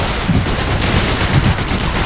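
Continuous rapid gunfire in Fortnite, a loud dense rattle of overlapping shots sustained throughout without a break, with no talking.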